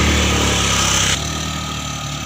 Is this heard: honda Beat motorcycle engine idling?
yes